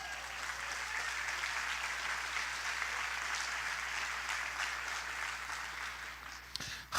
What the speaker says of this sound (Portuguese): Se for para Jesus, pode ser mais forte essas palmas